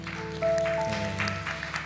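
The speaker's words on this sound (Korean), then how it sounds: "우리 하나님께 다시 한번 영광의 박수 올려드리겠습니다" At the close of a youth worship service, a church congregation applauds: a soft wash of scattered clapping under sustained organ or keyboard chords that swell slightly midway.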